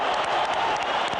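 A boxing arena crowd applauds after a brutal bout between Barrera and Morales, a brief burst of dense, loud clapping and crowd noise.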